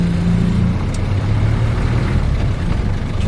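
A 1990 Land Rover Defender 110 with the 200tdi diesel pulling away in first gear, its engine a steady loud low drone heard from close by with no talking.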